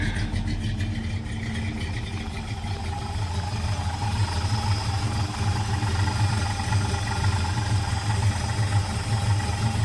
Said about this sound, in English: I think I know what that rattling sound was. It has to do something with the belt.